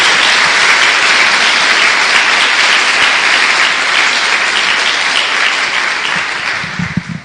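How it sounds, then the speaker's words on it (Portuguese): Church congregation giving a round of applause, a loud, sustained burst of many people clapping that gradually thins toward the end as a voice begins. "Dê uma salva de palmas a Jesus."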